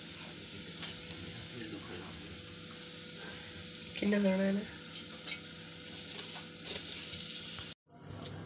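A cheese paratha fries on a pan with a constant sizzle, broken by stirring scrapes and a few utensil clinks. A voice speaks briefly over it before the sound cuts off near the end.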